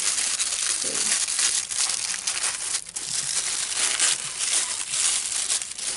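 Continuous rustling and crinkling of tissue paper being handled and crumpled, close up and fairly loud, with no talking.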